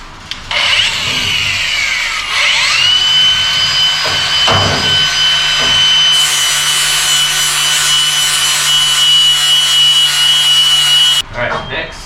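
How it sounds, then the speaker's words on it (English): A grinder grinds a sticker off a metal piece, a loud harsh whine that spins up, holds with scraping changes in tone for several seconds, then cuts off; a voice briefly speaks under it. "See if we can grind off the sticker real quick."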